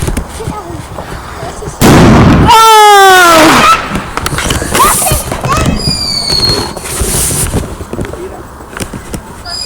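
Fireworks on bonfire night: a loud burst with whistling, descending squeals, then scattered crackles and pops, with voices shouting and talking around them.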